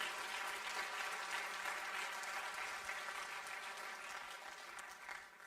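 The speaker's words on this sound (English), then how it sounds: "Please give me a round of applause for all of our supporters for this assembly." Applause from the audience at an assembly opening session: continuous dense clapping at moderate level, steady for several seconds and then tapering off at the end.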